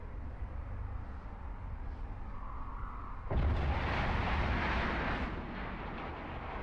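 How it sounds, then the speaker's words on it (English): A ship blows up in the space game Eve Online, a sudden loud broadband burst that swells and rumbles on for about three seconds over a steady background hum, then eases off. "Nice big explosion."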